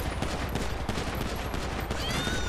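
A night-shift shootout in a first-responder video game, with a dense, continuous barrage of rapid gunfire crackling loudly and close, blending into one sustained roar of overlapping shots.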